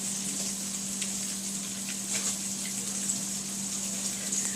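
Pork chops sizzle steadily in a frying pan, a continuous close crackle with a low steady hum underneath and no talking.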